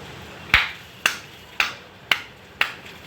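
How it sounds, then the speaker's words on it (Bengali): Five sharp, evenly spaced hand claps about half a second apart, crisp and close in a quiet room. "জাস্ট হাততালি দিলাম"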